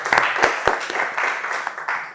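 An audience at an impromptu public-speaking session gives a participant a short round of applause. Scattered sharp claps open a brief, moderately loud burst that tapers off.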